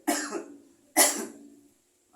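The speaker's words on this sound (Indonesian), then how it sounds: "maaf saya agak batuk ya" A person coughs twice in quick succession, close and fairly loud, during an informal discussion with a local council member, with brief silence between and after the coughs.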